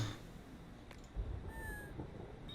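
A faint cat meow from the horror video game Next Week at Freddy's, one short drawn-out call rising briefly above a steady electronic game hum and ambient noise.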